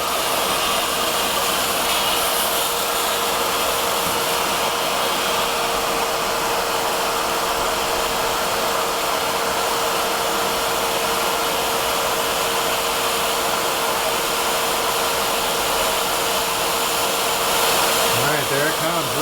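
A steady, loud hiss of spraying steam runs continuously from a close Bissell Little Green HydroSteam handheld cleaner, with a faint motor hum beneath and a brief swell near the end.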